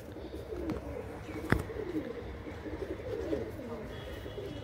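Pure Malwai pigeons coo softly in soft, repeated throaty phrases close by, with a few sharp knocks and light rustling, while someone talks over the birds at intervals.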